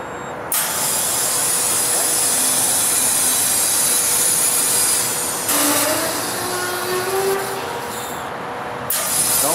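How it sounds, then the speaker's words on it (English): CNG natural gas rushing through a nozzle into a car's small 2-gallon tank after a converted fuel system's lever is lifted: a loud, steady hissing spray that holds for several seconds, then shifts pitch and cuts briefly before resuming. "Cover on the nozzle, snap it in place, stop, and then I come over here and lift the lever to fill it."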